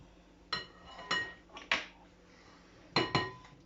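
A spoon mixes a yoghurt marinade in a bowl, with about five separate clinks and knocks against the bowl heard up close in otherwise quiet surroundings.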